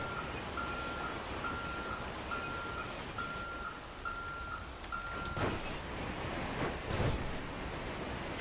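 A bus in GTA 5 sounds its reversing alarm: a string of about six evenly spaced beeps over a constant low engine rumble and hiss, followed by a couple of brief knocks.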